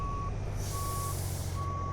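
A truck in American Truck Simulator gives three evenly spaced reversing beeps over a steady low engine rumble, with a brief hiss of air partway through.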